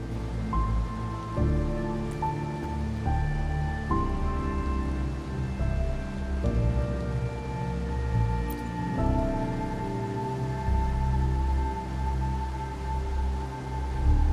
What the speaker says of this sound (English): When there's lightning, it's gonna rain.